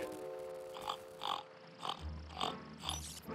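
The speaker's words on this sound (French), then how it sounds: "On dirait qu'il y a un cochon avec lui." A cartoon pig grunts in a series of five short, regular snorting bursts, fairly close, with a low rumble underneath.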